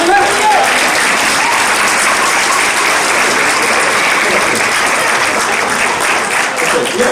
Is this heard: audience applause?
yes